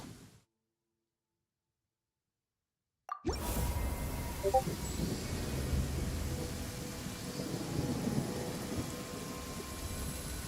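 A thunderstorm in the video game Genshin Impact breaks after near silence: a sudden loud thunder crack followed by steady heavy rain pattering on surfaces, with low rumbles continuing beneath.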